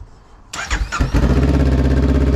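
A Honda Rebel motorcycle engine cranks with a brief whir, catches, and settles into a loud, steady, close idle rumble.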